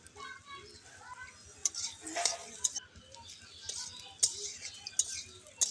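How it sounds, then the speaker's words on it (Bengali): Eggplant fries in a pan with salt and turmeric while a spatula scrapes and clinks in irregular bursts, over a soft background sizzle. "লবণ হলুদ দিয়ে নাড়াচাড়া করে ভালো করে ভেজে নিতে হবে। বেগুনটা নরম করে"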